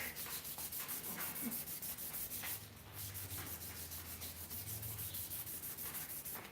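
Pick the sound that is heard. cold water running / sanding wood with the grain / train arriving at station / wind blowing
sanding wood with the grain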